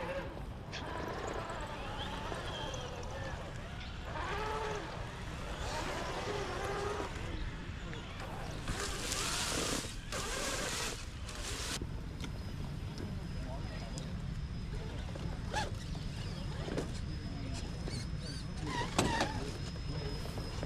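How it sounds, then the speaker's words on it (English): An RC rock crawler with a Fusion Pro 2-speed transmission drives over sandstone, its small electric motor whining in short bursts amid scrapes and knocks while someone talks throughout. "This thing's so fun with this 2-speed transmission of the Fusion Pro."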